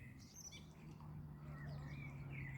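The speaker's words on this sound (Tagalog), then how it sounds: "nalilibang naman ako sa huni ng ibon" Outdoor birdsong, several high chirps and whistled calls coming and going over a low steady hum, fairly faint and at a middle distance.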